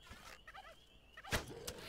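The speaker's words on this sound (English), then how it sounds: "we got infected turkeys" An infected turkey in the zombie survival video game How to Survive 2 gobbles in quick warbling bursts, fairly faint amid game noise, with a sharp hit near the end and no talking.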